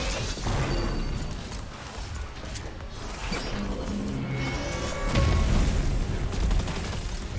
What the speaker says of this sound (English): I can just sit up here and shoot him with an SMG